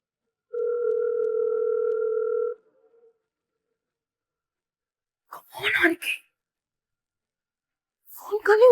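A telephone ringback tone sounds once as a steady two-pitch burst of about two seconds, then stops unanswered; short bursts of muffled sound follow after a pause.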